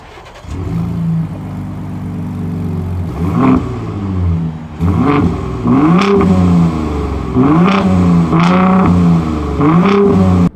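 Engine of a 2023 Ford F-150 Raptor with a V6, idling with a low rumble and then revved hard several times in a row, each rising blip falling back, loud and close with no talking.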